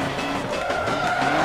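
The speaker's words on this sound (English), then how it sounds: "We got it to drift." A truck drifting in Forza Motorsport 7, with a revving engine and a steady, loud tire squeal rising in pitch as it slides through a corner, and no talk.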